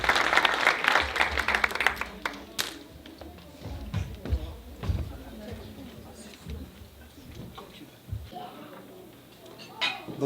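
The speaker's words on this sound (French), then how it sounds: "une main d'applaudissement pour notre charmant" Applause from the audience at a fundraising event for a poet, bursts of clapping that start strong and thin out into scattered claps, with voices talking over them.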